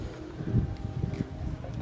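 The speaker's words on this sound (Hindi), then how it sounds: "तेज़ हवा भी चल रही है" Strong wind blowing outdoors on a cold sunny day beside farmland, a low steady rumble with gusty swells buffeting the microphone, fairly close and continuous.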